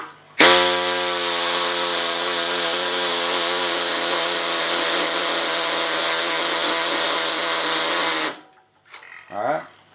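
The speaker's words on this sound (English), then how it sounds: "I just happen to use a air-powered saw, and then you cut off the little nub that you shoved in the original hole" An air-powered saw cuts off a small metal nub from a piece of homemade camping gear. It gives a loud, steady, buzzing mechanical whine that lasts about eight seconds and then stops abruptly, followed by a brief clatter.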